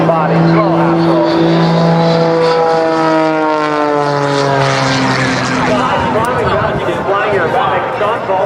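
An aerobatic propeller airplane at an air show roars close and loud, its engine pitch sliding down steadily as it pulls up to the vertical, a continuous strong drone with no voices over it.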